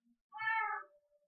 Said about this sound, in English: we're keeping all these cats.